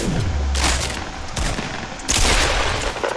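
Hunting rifle shots in the Fortnite video game, several sharp loud bursts with fast reports and echoing tails, close and separated by short gaps.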